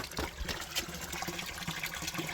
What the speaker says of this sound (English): So this is exactly where people collect their drinking water from.